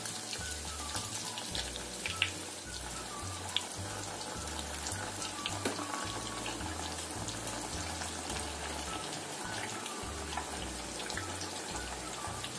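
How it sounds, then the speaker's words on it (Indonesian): Sausages frying in plenty of oil, a continuous crackling sizzle with scattered pops and spits, steady and fairly close throughout, with a low rhythmic hum beneath. "Ini kita goreng sampai kuning keemasan."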